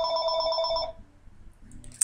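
A telephone rings nearby in a quiet room, a short electronic warbling ring that stops after about a second, leaving faint room noise.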